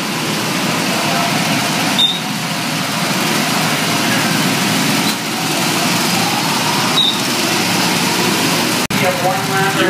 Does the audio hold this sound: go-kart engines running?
yes